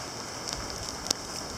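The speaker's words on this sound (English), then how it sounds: "Because it's still raining." Steady rain falling outdoors on a yard with a junk pile, a continuous soft hiss with a couple of brief louder drip taps, no talking.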